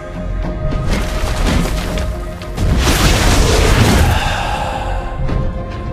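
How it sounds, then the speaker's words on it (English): A turret is destroyed in the mobile game Mobile Legends, a heavy booming blast swelling midway through amid dense game effects and music, loud and close. "Your team destroyed a turret."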